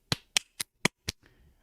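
Five sharp, evenly spaced hand claps ring out close and crisp in quick succession, followed by a faint rustle and then quiet.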